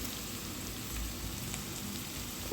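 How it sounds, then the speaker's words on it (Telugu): Sliced onions frying with salt in a pan for a fish curry, a faint, even sizzle with soft crackle throughout and no voices. "ఉల్లిపాయ బాగా వేగుతుందన్నమాట ఉప్పు వేస్తే"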